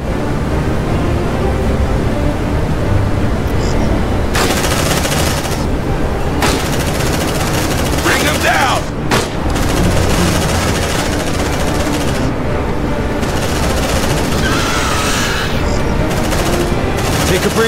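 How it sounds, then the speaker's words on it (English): Sustained suppressive machine gun fire in the sci-fi combat game Aliens: Dark Descent, a loud, dense, continuous rattle of rapid shots throughout, with occasional voices shouting underneath. "Suppressive fire!"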